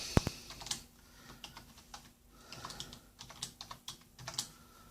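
Password being typed on a computer keyboard for a Raspberry Pi running Ubuntu Mate: a close, irregular run of light key clicks with one sharp louder tap near the start, no voices.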